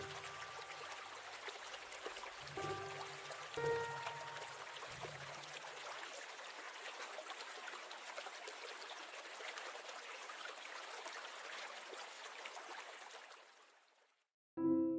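A river stream flows steadily near a cabin, a soft continuous trickling wash with a few faint tonal chimes early on, fading out near the end before a brief low sound.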